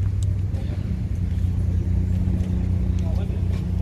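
An old school Honda car at a car meet, its engine rumbling with a steady low drone and slight revving throughout, close and loud, with faint crowd chatter in the background.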